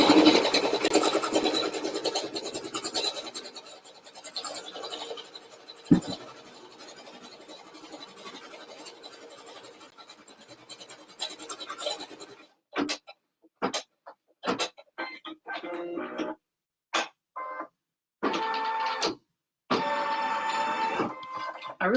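An embroidery machine stitches a placement stitch onto tearaway stabilizer with a steady whirring hum, then shifts to short stop-start bursts of stitching separated by brief pauses.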